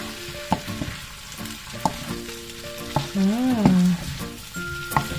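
Sisig tofu frying in a pan with chili garlic, giving a steady sizzle broken by sharp clicks and taps of stirring, with a brief rising-and-falling tonal whine near the end.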